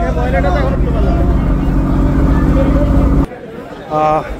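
A ferry to Sandwip pulls away with a loud, droning engine hum under a babble of voices. The rumble cuts off abruptly near the end before a short tonal blast, like a horn, sounds.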